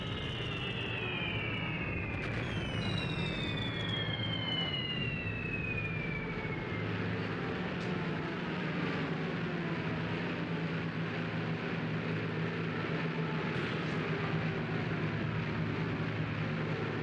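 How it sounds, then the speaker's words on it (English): Bomber aircraft arrive in the tank combat game Tank Warfare: Tunisia 1943, a steady engine drone held throughout amid broad rumbling battle noise, with a couple of descending whistles early on. "In comes the bombers."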